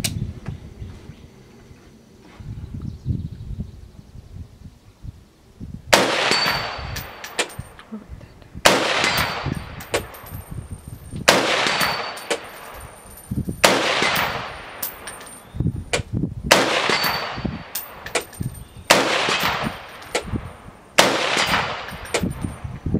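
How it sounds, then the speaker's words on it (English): Outdoors, .308 rifle rounds strike a steel stake-and-shoot target, each loud shot followed by a ringing metallic clang, about a dozen evenly spaced impacts after a few quiet seconds. "let's put some 308 rounds into it and see how she does"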